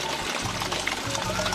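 Cold spring water from a hillside source gushing out of a pipe, a loud continuous splashing pour up close with no voices.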